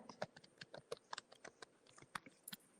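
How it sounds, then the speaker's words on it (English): Fingers type on a computer keyboard in quick, uneven bursts of crisp clicks and taps, close and fairly quiet, with no voices. "Now I'll type that."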